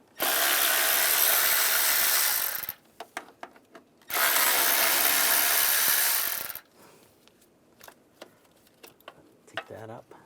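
Power ratchet driving a 10mm socket to remove two bracket bolts on a 2011-2018 RAM 1500 3.6L V6, two loud steady whirring bursts of about 2.5 seconds each, followed by quiet clicks and handling noises.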